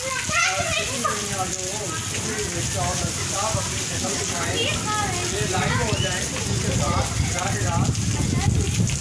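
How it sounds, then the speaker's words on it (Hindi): Rain falls at Haveli Lakha as a steady hiss beneath lively children's voices and chatter that dominate throughout. "आज हवेली लखा में बारिश हो रही है।"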